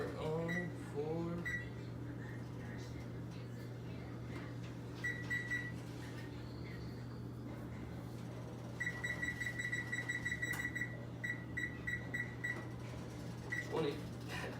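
An oven timer being set gives off short bursts of electronic beeps, several spaced groups over a steady low kitchen hum, with a person speaking at the start and end.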